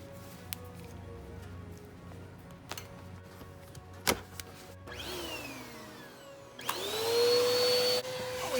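A vacuum cleaner working over a car's floor area before all-weather mats go in, with scattered knocks and bumps first, then the motor spinning up into a steady loud whine that falls off and surges again.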